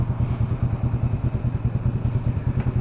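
A 2014 Kawasaki Ninja 300 ABS, a small parallel twin, idles close by with a steady, rapid low throb and a slightly clattery pulse that holds even throughout.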